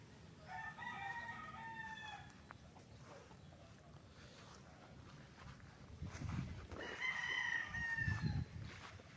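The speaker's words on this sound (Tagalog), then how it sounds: "Daming manok, oh." Gamefowl roosters crow at a farm in Pagsanjan, Laguna, in two clear bouts, each made of several overlapping drawn-out calls. The crowing stands out at moderate distance above a low outdoor background.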